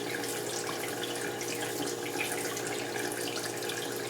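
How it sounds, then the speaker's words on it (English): Tap water runs steadily over a crown brush held bristles-down beneath a faucet, a continuous close splashing rush with no break across the few seconds. "Wash off your comb. Put it back under. Bristles only."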